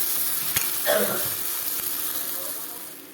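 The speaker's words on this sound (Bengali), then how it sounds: "দেখো বন্ধুরা মশলা কষা পরে টমেটো দিয়ে দিলাম টমেটোগুলিও হয়ে গেল" Spice paste and tomatoes sizzle and fry in a pan for a fish and tomato dish, a steady hiss with a brief stirring scrape near the start, close and moderately loud.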